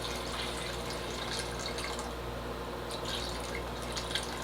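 Water poured into a canning pot holding lids, a steady soft splashing and trickling heard close and fairly quiet for several seconds.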